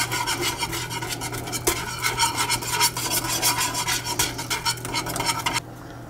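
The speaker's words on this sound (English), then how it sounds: "Whisk it in there pretty good so it gets incorporated." A whisk scrapes rapidly against a pot, blending cream into a rabbit pot-pie filling, making a busy, close scratching rasp that stops abruptly near the end over a constant low hum.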